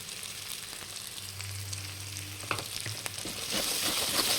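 A spice paste with Kashmiri chili powder fries in oil in a pan for a fish curry. It gives a steady sizzle with a few stirring knocks, and the sizzle grows a little louder toward the end.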